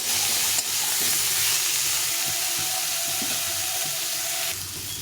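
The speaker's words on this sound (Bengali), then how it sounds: "খুব কচি এঁচোরটা ওর জন্য একটু এভাবে রান্না করছি আর কি একদম নিরামিষ করে রান্না করবো ঘি গরম মশলা দিয়ে" Very young jackfruit cooking in a pan with ghee for a vegetarian dish: a loud, continuous sizzle and hiss that holds steady throughout, close up, with faint bumps of stirring underneath.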